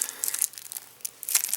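A plastic package of X-Wing game cards is torn open, giving crisp crinkling and crackling in short uneven bursts, close and fairly quiet.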